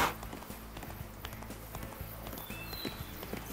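A horse's hooves clip-clop at a steady trot in a horse-riding video game, close and fairly soft against a constant background.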